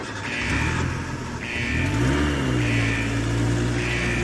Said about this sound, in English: I'm going in the car.